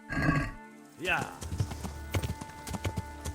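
A horse whinnies, then hooves clip-clop in a quick, steady rhythm in the video game Kingdom Come: Deliverance, with a voice talking over part of it.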